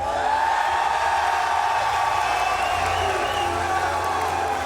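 A packed esports arena crowd at a Call of Duty League event in Anaheim roars with steady, loud cheering and whooping, a continuous wash of voices filling the hall without a break.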